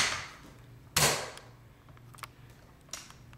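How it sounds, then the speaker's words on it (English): An airsoft gun being handled and cocked, one sharp loud mechanical snap followed by a few lighter clicks and rattles, close up with no talking. "you can still fully cock the weapon."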